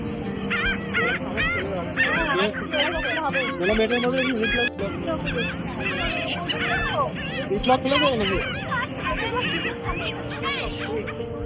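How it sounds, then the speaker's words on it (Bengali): Many seagulls call on an Atlantic Ocean beach in America, their overlapping squawks and cries forming a dense, fairly loud chorus that runs the whole time. "কত সিকাল পাখি দেখুন"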